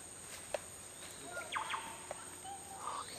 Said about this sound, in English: those birds, Kens.